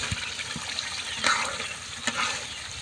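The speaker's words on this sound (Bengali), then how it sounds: "এবার ডালটা ভালোভাবে আমি একটু নাড়াচাড়া করে নিব 5 মিনিটের মতো" Boiled dal stirred into fried spices in a pan for a fish-head ghonto gives a continuous near sizzle, broken by a few louder scrapes and clinks of the stirring spoon, with no voices.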